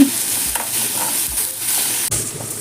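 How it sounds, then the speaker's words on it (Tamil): Onions sautéing in a pan until golden, a loud, close, continuous sizzle with occasional stirring scrapes of the spoon against the pan. "வெங்காயம் நல்லா வதங்குற வரைக்கும்"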